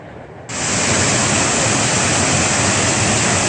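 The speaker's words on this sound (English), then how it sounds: "This is Avery Creek Falls. Really roaring today with the water being so high from snow melt and recent rain." Avery Creek Falls in Pisgah National Forest roars loudly with high water from snowmelt and rain, a dense constant rushing wash that cuts in abruptly and holds steady, with no voices.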